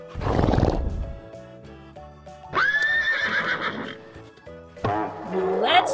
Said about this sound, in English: It's a white and a gray horse.